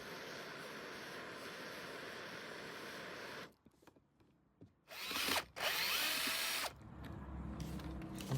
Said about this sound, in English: we're going to use just a drill like that,